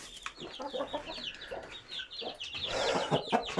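Hens cluck and murmur in a new backyard coop, a close, fairly quiet run of short clucks and squawks that grows busier toward the end, with no voices.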